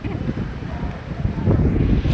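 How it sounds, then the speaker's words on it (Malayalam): Strong wind buffets the microphone at a temple, a steady broadband rumble and roar lasting throughout with gusts swelling toward the end. "ഇവിടെ കാറ്റാണ് എന്നെയും കൂടി ഇതാ എടുത്തോണ്ട് പോകും കാറ്റ്"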